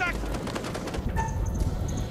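Video game gunfire in a fast, dense burst of shots mixed under game sounds and a voice, loud and close over a short span.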